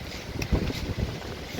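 Very strong storm wind outdoors in an orchard by an apple tree, a broad rough rush of gusts buffeting the microphone, swelling mid-clip and then easing slightly, with no voices.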